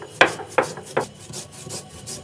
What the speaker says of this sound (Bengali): ভাবি জিরা বাটতিছে।